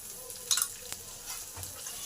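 Chopped onion and garlic fry in a pan for a bhorta of gime shak, giving a soft, steady sizzle with a few light clinks of a spatula stirring, fairly quiet and with no voices.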